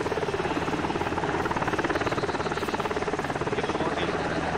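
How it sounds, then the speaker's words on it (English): A helicopter in a video game makes a loud, continuous, fast rotor chop that stays close and steady throughout, with no voices over it. "If Hill crashes this helicopter, he's gonna die"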